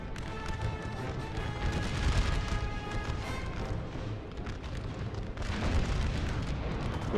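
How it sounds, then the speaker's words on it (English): Batteries of 3-inch ordnance cannons fire in a Civil War battle game, a dense, continuous roar of overlapping booms and crashes with a few louder surges, no voices. "Okay, we have some more gun batteries firing away."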